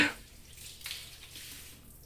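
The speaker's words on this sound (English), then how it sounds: "how much longer are they going to shower?" A shower runs in the Steins;Gate visual novel, giving a steady, soft hiss of falling water that continues throughout, with faint low background tones underneath.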